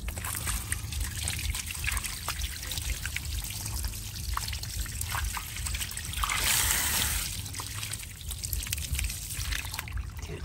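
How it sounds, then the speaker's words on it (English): Water pours steadily from a garden hose while a classic Mini is washed outdoors. It is a continuous splashing trickle with a brief louder gush partway through, close by and without speech. "We got some water."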